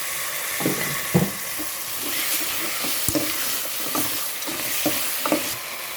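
Curry paste being stir-fried in a pan for a Thai curry of mushrooms with pork bones, a steady close sizzle under repeated scraping stirs and clinks.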